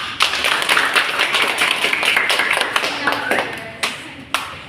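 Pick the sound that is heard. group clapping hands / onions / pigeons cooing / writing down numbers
group clapping hands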